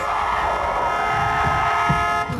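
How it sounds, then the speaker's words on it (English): In a scene from the horror film The Strangers Chapter 1, a car horn blares in a long sustained honk just after two cars nearly crash, loud and steady before cutting off abruptly near the end. "But who honked the horn here?"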